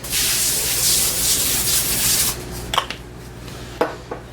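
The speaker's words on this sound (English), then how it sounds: "We're going to spray this down." A can of cooking spray hisses steadily onto a pizza pan for about two seconds, close and fairly loud, followed by a few faint metallic clinks and rubbing sounds.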